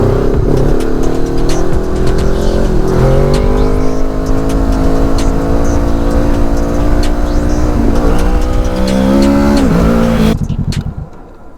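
A Kawasaki Z650 twin-cylinder motorcycle engine hums loudly while riding, with a steady droning tone rising and falling through gear changes and revs, continuous up close until it cuts off abruptly near the end.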